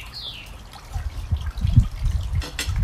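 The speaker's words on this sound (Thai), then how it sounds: "สงสัยจะได้ยินเสียงน้ำตกเออมั้งเนี่ยน้ำตกอยู่ข้างหลัง" Steady rushing water of a waterfall flows in the background, a continuous trickling wash with low rumbling bursts underneath.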